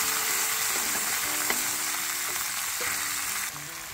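Garlic, pepper and mushrooms sweat in a pan over slow heat, giving off a steady close sizzle and frying hiss with occasional light stirring clicks, and no voices.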